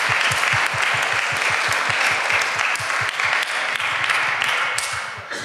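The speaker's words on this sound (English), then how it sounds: "give a round of applause to all the volunteers and everybody who made this happen" A crowd at an openSUSE project meeting claps for the volunteers, a loud, steady round of applause with a distinct rhythmic clap pulsing through it before tapering off.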